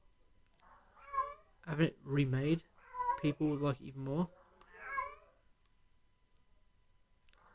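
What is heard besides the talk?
cat meowing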